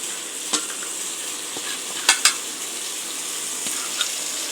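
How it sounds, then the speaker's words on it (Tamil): Chopped mushrooms frying in a pan, a continuous sizzle with a handful of sharp spoon-against-pan clinks and scrapes, including a quick double strike in the middle, close and without talk. "வெட்டி வச்ச காளானை நல்லா ஒரு 5 மினிட்ஸ் நல்லா ஒரு கிண்டிக்கலாம்"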